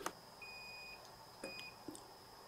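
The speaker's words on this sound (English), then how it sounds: "that's beeped, so I'm assuming that it's actually scanned the QR code" A single thin electronic beep comes from an Apeman IB81 camera after it scans a QR code. It is faint and brief against a quiet room hum, with a few soft clicks around it.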